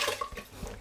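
Water is poured from a cup onto washed rice in a rice cooker, a short, soft splashing gush close by and fairly quiet, with no talking.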